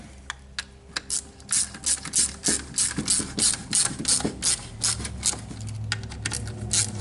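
A ratchet tightens bolts while a PCM is installed in a 1996–1999 Cadillac Seville, Deville or Eldorado. Close, loud clicking pawl bursts come in short, irregular runs of cranking with brief pauses between them, and there is no talk.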